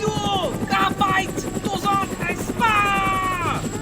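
Video game helicopter with a steady rapid rotor chop running throughout, heard beneath loud excited voices speaking over it.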